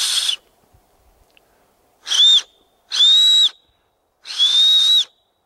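Three piercing, high-pitched shrill whistles blown through a small acorn cap, loud and close, each lasting about half a second with quiet gaps between, after an opening burst.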